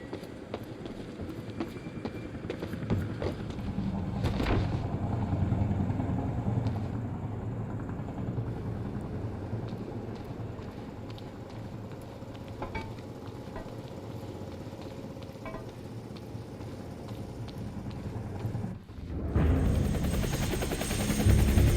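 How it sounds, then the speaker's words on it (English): Helicopter in the video game Quantum Break, a steady, loud rotor drone that fills the scene, with a brief dip near the end before the roar swells again. "Better get inside before the chopper spots me."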